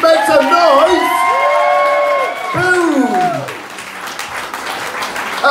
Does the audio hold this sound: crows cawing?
no